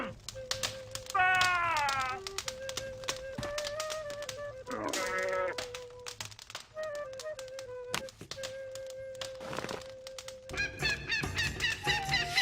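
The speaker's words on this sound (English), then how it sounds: "It's a splendid bird. Look how proud it is." Honking calls of a proud bird in a medieval-style adventure game, several rising and falling honks scattered across the stretch over a steady game music bed with tapping effects, no talk.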